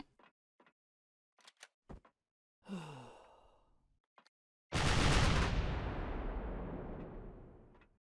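Turret fire in Empyrion Galactic Survival, heard as a few sharp cracks and then a heavy booming blast that rolls on and fades over several seconds, with a sigh heard earlier in the clip.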